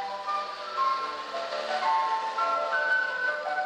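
A London ice cream van plays its tinkling melodic chime, a steady tune heard from a distance with no talk over it.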